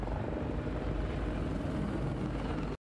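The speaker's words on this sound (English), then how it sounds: "A lot of helicopters in today's episode." Helicopter rotor and engine roar from a TV drama about the Chernobyl disaster, a steady loud drone throughout with no talk over it.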